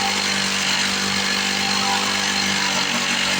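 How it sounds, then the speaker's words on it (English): A 1970 Lawn-Boy Buttercup lawn mower engine runs steadily and loudly, its speed wavering slightly up and down as the gummy carburetor struggles, with no voices over it. "You hear the RPMs going up and down, so the started."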